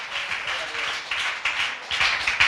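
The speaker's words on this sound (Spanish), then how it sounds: "Eso merece un aplauso, ¿verdad?" Scattered applause from a small group at a Bible class, a steady moderate patter of hand claps that rises and falls in bursts over a couple of seconds.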